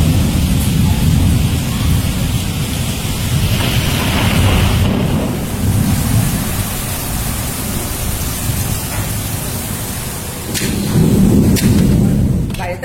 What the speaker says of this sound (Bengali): বাইরে প্রচন্ড ঝড় হচ্ছে, এখন প্রচন্ড বৃষ্টি হচ্ছে